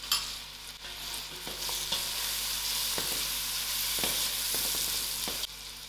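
Samp, beans and sweet corn simmer and sizzle in a pot while being stirred. A steady hiss runs throughout, with faint scrapes and knocks of the spoon against the pot and no talking.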